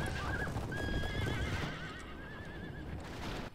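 Horses whinny and neigh repeatedly over a busy, clattering battle din with hooves clopping in a Lord of the Rings strategy game battle at Minas Tirith, the calls rising and wavering for several seconds.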